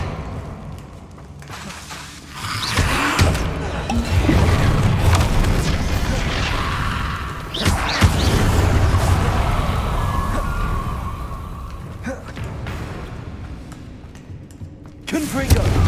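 Loud booming spell blasts and thuds from a fantasy combat game on hard difficulty, several heavy impacts rumbling over game effects, with a voice shouting spell names at times.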